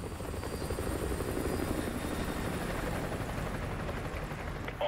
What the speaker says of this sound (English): Chopper inbound. Keep low.